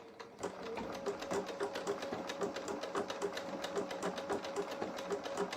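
A sewing machine stitches a blanket-stitch appliqué onto fabric, its needle running in a steady, rapid rhythmic chatter of evenly spaced clicks at close range, with no voices.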